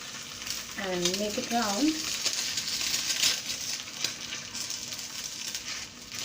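Egg omelette sizzles steadily in a pan over a low flame, a soft continuous frying hiss with someone talking briefly over it near the start.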